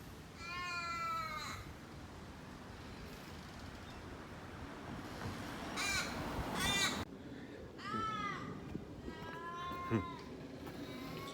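Several loud, harsh caws ring out in bursts, some close together, over a background of outdoor noise.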